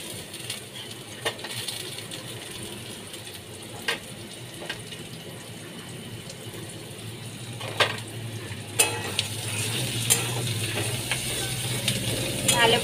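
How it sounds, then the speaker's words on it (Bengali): Onion, crushed ginger and garlic fry in oil with a continuous sizzle, punctuated by repeated clicking scrapes and taps of a spatula against the pan, close and moderately loud. "ভালো করে তেলের মধ্যে আমি ভালো করে কষিয়ে নিচ্ছি।"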